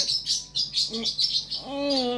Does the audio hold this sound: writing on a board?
no